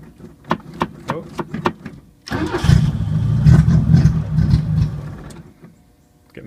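A 1980 Chevy Luv engine with a plugged carburetor coughs through a few sputtering catches, then roars up loudly for a few seconds before fading out, close by.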